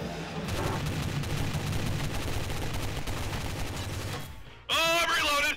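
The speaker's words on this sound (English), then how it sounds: "I just shot Butch's body." Sustained rapid gunfire in the Garry's Mod video game, a dense continuous burst lasting about four seconds and fairly loud, then cut off by a loud voice speaking.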